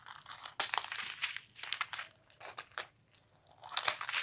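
Thin plastic diamond painting bead sachets being cut apart and handled, a close, irregular run of crisp crinkles and rustles in short bursts with brief pauses, no talking.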